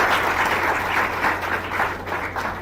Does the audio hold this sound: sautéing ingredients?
no